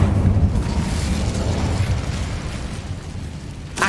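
An Incendio fire spell cast in the video game Hogwarts Legacy erupts as a loud, roaring burst of flame that rumbles heavily at first, then slowly fades, ending with a brief sharp crackle.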